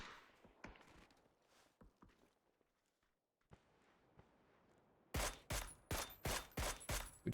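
PUBG gunfire: scattered shots and footsteps at first, then a quiet stretch, then six loud, evenly spaced shots ringing out close by.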